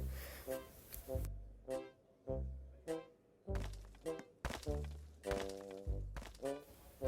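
Digging in the video game Roblox: a run of hollow thunks and cracking hits, about a dozen spaced strikes in an uneven rhythm, close and fairly loud with brief silent gaps between them and no talk.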